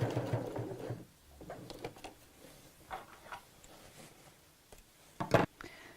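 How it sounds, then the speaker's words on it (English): A sewing machine stitches fabric over piping cord in a brief loud burst at the start, followed by quieter intermittent ticks and clicks and a sharp handling knock near the end. "sew to around about 1 inch from where the overlap's going to be"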